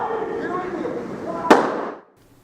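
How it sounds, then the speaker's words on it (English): An airsoft grenade goes off inside a building with one sharp, loud crack midway, its reverberation trailing off before an abrupt drop to near silence; a muffled scene with voices precedes it. "somebody from the red team threw a grenade attempting to throw it out of the building into the bushes where the blue team were approaching"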